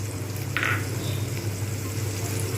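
Ground spices such as roasted coriander-cumin powder, nutmeg, mace and garam masala sautéing in a pan for doi pona, a Bengali fish curry, giving a steady close sizzle with a low hum beneath and no talking.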